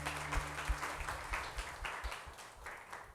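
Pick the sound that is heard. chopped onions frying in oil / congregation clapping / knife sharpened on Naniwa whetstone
congregation clapping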